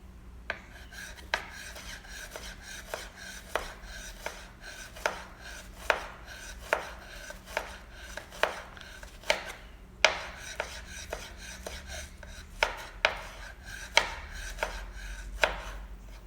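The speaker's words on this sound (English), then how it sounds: "Be sure to chop your shallot very finely." A knife chops a shallot finely on a board, steady rhythmic knocks in bursts with short pauses, close and crisp, no talking.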